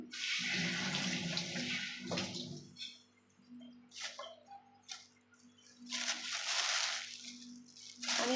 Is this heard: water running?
yes